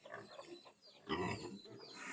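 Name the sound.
native pig with newborn piglets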